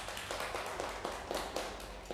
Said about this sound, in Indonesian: boleh kasih tepuk tangan untuk kelompok 2.